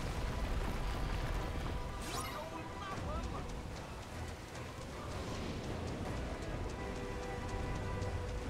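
Steady rain falls over a dark, stormy scene in Kingdom Hearts 3, a constant broadband hiss running throughout with a brief sharper crash about two seconds in, heard under game sounds.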